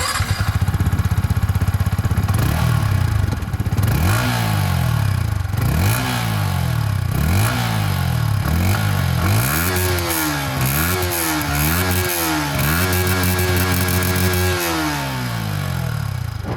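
A Yamaha XSR 155 with its 155cc liquid-cooled engine revs hard and loud throughout the ride, rising and falling through repeated upshifts in a steady series of climbing engine sweeps, with no talk.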